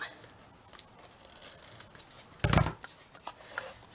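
Scissors trim paper for a handmade paper dress, a run of light snips and rustles building to one sharper, louder cut, close by and without talk.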